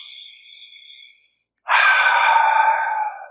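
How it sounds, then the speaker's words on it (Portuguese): Slow, deep breathing: a soft, airy exhale trails off into a pause, then a strong, close inhale or breath rushes in and holds steady. "respirando profundamente"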